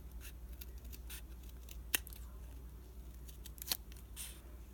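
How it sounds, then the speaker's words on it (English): Scissors snipping a thin sliver off the fold of craft paper, quiet close-up with a few soft cuts and two sharper clicks of the blades amid faint paper handling. "just going to take our scissors and we're just going to barely cut off the fold"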